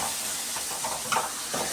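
Steady hissing sizzle of tomatoes frying in hot oil, close up, with soft crackles and a few brief pops rising through the hiss.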